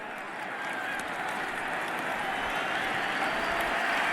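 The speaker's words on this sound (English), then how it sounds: "Well, here comes the applause." Stadium crowd at a college football game between Miami and Oklahoma breaking into broad, sustained applause and cheering that swells gradually and fills the whole stretch with dense distant clapping.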